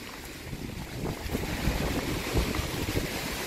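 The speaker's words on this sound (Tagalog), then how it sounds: "Ang lakas ng hangin." Strong wind blows hard outdoors near a fast-flowing river, a continuous gusty roar rumbling against the microphone with no voices.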